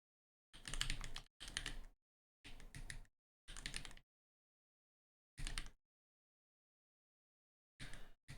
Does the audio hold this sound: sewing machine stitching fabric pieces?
no